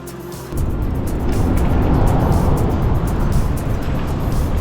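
Steady road traffic roars close by on a Brisbane road near the Minnippi train station, where a cyclist shares the lane with cars; the rumble swells in after a quieter opening and holds loud and continuous with no talk.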